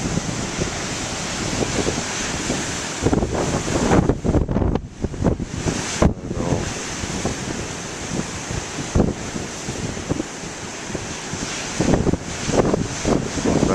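Big ocean waves crash and splash on a windy day, a steady roar of surf with wind buffeting the microphone and no voices.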